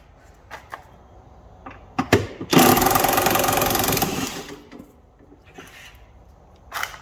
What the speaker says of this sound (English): We need a 15mm socket to go on there, and then I do believe a 19mm socket there, and then we just pull it out